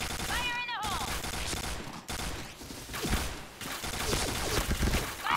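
Dense gunfire rattles in the online shooter Point Blank, loud overlapping bursts and single shots mixed with game effects, with someone talking over it.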